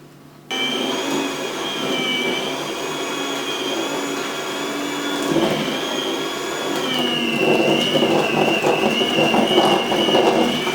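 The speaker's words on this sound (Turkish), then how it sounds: "Yumurtamızı hepsini mikserle karıştırıyoruz." A steady, loud electric mixer beating eggs whirs without pause, its motor pitch wavering slightly as it beats, with a busier rattling texture building toward the end.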